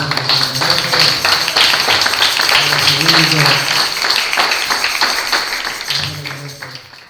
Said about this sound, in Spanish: Y le hace este fuerte aplauso al Señor